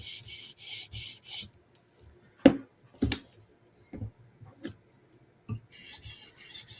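Rust eraser rubbed along the edge of a knife to polish out diamond-stone scratches, heard as short raspy scrubbing strokes in bursts, with a few sharp taps and clicks between them, close and fairly quiet.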